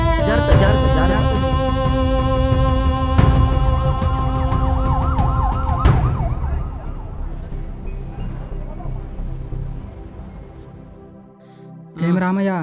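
A wailing ambulance siren sweeps up and down loudly in a dramatic film scene, fading after several seconds as voices shout anxiously over it, then a brief burst of noise at the end.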